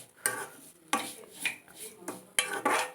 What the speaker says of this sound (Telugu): ఇట్లా తిప్పుతూనే ఉండాలి, లేకుంటే అయినా నల్లగా మాడిపోతాయి